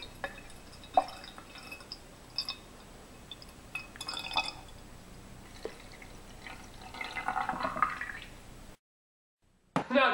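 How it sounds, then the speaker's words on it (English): Water poured into a container holding a lit candle in a jar, uneven drips and trickles splashing against glass, building into a fuller gurgling pour before a brief silence and a final splash. "pouring water into the container"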